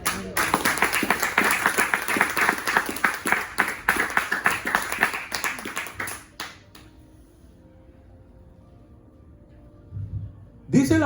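Church congregation clapping for the Lord, a dense burst of applause mixed with voices for about six seconds, then dropping away to near silence before a short loud return at the end.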